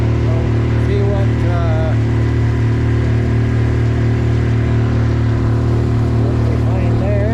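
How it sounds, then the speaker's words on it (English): A boat engine drones steadily and loud throughout, carrying an outing across a lake to a fishing spot at night, with a low continuous hum and faint voices beneath it. "I don't know if you can hear anything with the engine running"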